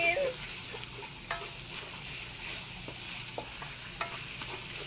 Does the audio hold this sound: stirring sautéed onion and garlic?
yes